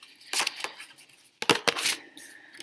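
Tarot cards being shuffled by hand indoors: a few quiet, papery riffles and soft slaps in short bursts with pauses between, close and faint, with no voices.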